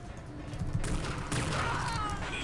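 Gunfire in the video game Unreal Tournament 2004, a dense fusillade of shots and impact bursts blending into a noisy wash over about two seconds, moderately loud.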